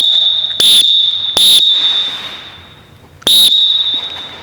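Sharp referee whistle blasts during a lacrosse faceoff drill, three loud bursts with short pauses between them over a steady high electronic tone.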